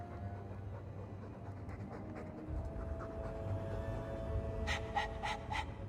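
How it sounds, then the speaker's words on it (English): A dog pants in the video game Dragon Age 2, a steady, breathy rhythm of quick wet breaths that runs throughout over a low game ambience, with faint chiming tones near the end. "All that noisy dog breath"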